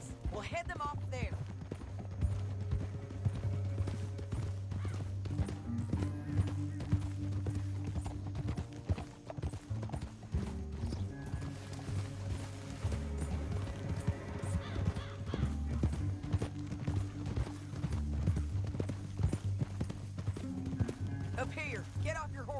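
Steady clip-clopping of horse hooves in the Red Dead Redemption 2 video game runs continuously under game music and characters talking, with an occasional faint whinny.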